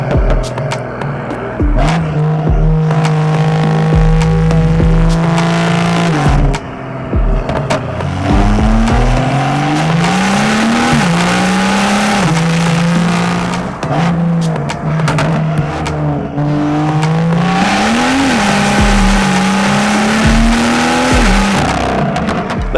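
A BMW M2 (F87) engine revving hard through an M Performance exhaust with an Eventuri intake, loud rising and falling surges repeated several times, close by with a deep growl.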